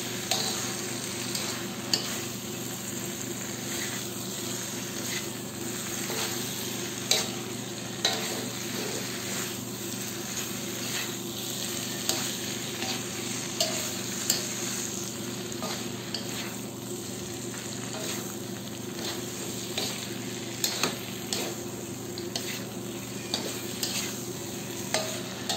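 Pork binagoongan with eggplant sizzles steadily in a pan as it is stirred, with a continuous frying hiss broken by occasional scrapes and clinks of the utensil, all without talk.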